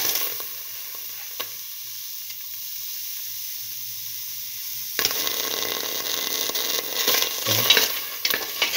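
Tomato pieces dropped into a hot pan with split mung bean mixture, quiet at first, then a sudden loud sizzle that continues with stirring scrapes.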